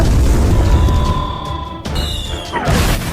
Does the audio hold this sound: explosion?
yes